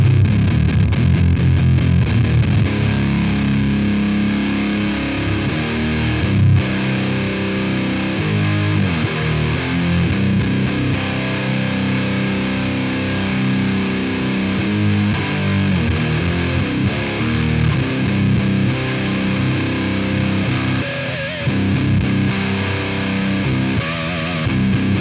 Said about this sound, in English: having the distortion up full makes it way too muffled